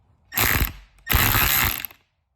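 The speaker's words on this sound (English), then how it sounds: "I'm going to tighten this last one down till she's just snug." Two close bursts of rapid ratchet clicking, a short one and then a longer one after a brief pause, as a socket wrench snugs the last bolt on a fan modification in the engine bay of a red Volvo 854, with no talk over it.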